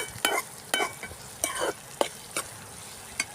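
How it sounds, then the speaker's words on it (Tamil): Onions sauté in a pan for a village-style appalam gravy, with a steady low sizzle broken by crisp stirring scrapes about every half second, close and fairly loud. "இப்போ வெங்காயம் வதங்கிடுச்சு"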